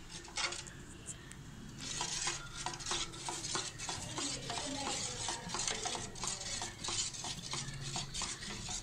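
Payasam mix made from Amrutham powder being stirred steadily in a pot on a gas stove, a continuous scraping swirl with light metallic clinks, close and alone without talk.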